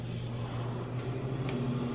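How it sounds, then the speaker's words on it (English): A microwave oven heating a cup of water gives off a steady low electrical hum with a faint whir, continuous and moderately close, with no talking. "Getting some hot water. I'm gonna microwave it."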